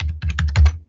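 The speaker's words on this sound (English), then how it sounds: "type that person's password in" Quick burst of computer keyboard typing as a password is entered, about seven soft, close key clicks in rapid succession lasting under a second.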